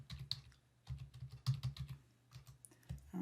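Someone types on a computer keyboard in quick, irregular bursts of key clicks, close and fairly quiet, with short pauses between runs.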